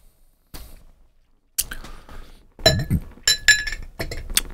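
A magnetized shot glass drops into a drinking glass, giving several sharp glassy clinks and rattles in quick succession, close and fairly loud, with no talking.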